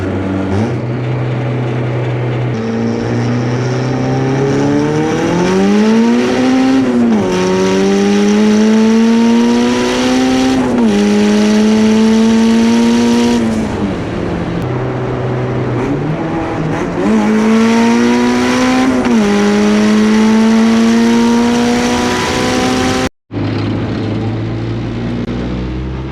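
A boosted Honda Civic cruising from inside the cabin, its engine droning loudly and steadily, with the pitch climbing and settling through several gear changes and a brief cut near the end, with no talking.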